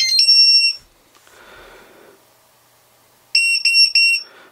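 A tBeacon BuzzyBo drone buzzer beeping, a loud high-pitched tone that sounds, pauses with faint noise, then returns as a rapid cluster of three or four short beeps.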